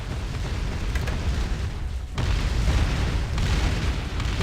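A spaceship blown apart in the space strategy game Distant Worlds Universe: a loud, sustained rumbling explosion with a brief break midway before the booming roar resumes.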